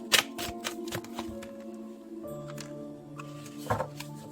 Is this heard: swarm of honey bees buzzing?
no